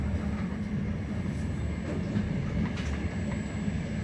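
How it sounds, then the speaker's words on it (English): A first-class overnight sleeper train in Ukraine rolls along with a steady low rumble and rattle heard from inside the carriage, with faint periodic clicks and no talking. "we're on this train for 16 hours and we're going a really big distance"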